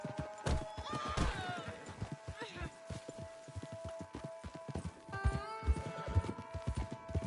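A horse in a video game gallops off after being spurred on, with quick rhythmic hoofbeats, a loud whinny near the start and another near the end, and voices talking over it.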